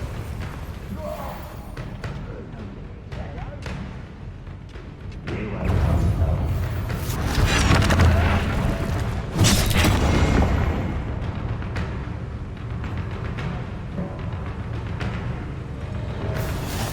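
Spell explosions in the video game Hogwarts Legacy, a run of booming thuds and blasts that swell in the middle and fade, mixed with game music and effects while characters speak.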